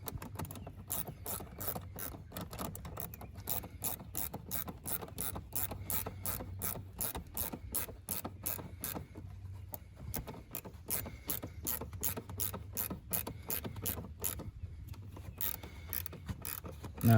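A ratchet wrench turning a size 11 nut while installing an aFe Momentum GT cold air intake on a 6.2L Ford F-250, giving a steady, rapid run of close mechanical clicks that continues throughout.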